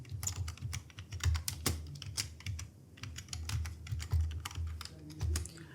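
Someone types salary slip entries into an Excel spreadsheet on a computer keyboard, with quick irregular bursts of close, crisp key clicks and a few heavier thumps, like the space bar or enter key.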